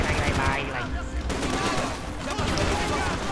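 Rapid gunfire from a Max Payne 3 shootout on PC: dense, overlapping bursts of shots rattle continuously at a steady, loud level for the whole stretch.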